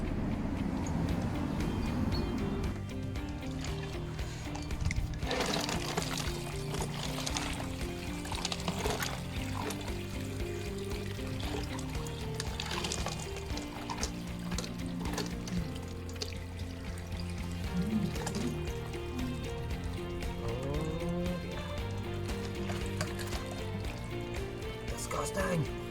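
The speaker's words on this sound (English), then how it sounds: "The water that's coming out is just like black with sort of silt and soot and stuff" Dark, silty water pours and trickles out while a neglected wildlife pond is drained, a continuous soft liquid splashing with scattered drips, fairly faint, under someone talking for much of the time.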